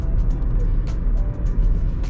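Inside a 2014 Nissan Pulsar 1.2 automatic, a steady, close, low engine and road rumble drones as the car pulls away under acceleration, with no clear rise in pitch over the short span.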